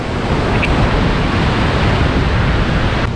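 Roaring whitewater of the Imatrankoski rapids in Imatra, Finland, a loud, steady, unbroken rush that fills the whole clip with no pauses.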